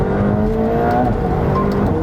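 McLaren 720S sports car engine accelerating, a loud steady drone with rising tones close by, running alone with no voices.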